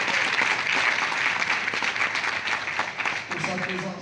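Applause from a crowd, steady and dense for a few seconds, then thinning out as voices come through near the end.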